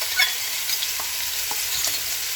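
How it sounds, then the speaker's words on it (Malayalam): Crushed shallots and chillies hit hot oil in a pan for a Kerala vanpayar mezhukkupuratti. A steady, loud sizzle carries a few stirring scrapes, with no voices. "അതിനകത്തേക്ക് നമ്മൾ ചതച്ച് വെച്ചേക്കുന്ന ഈ ഉള്ളിയും മുളകും എല്ലാം കൂടെ ഇടുന്നു."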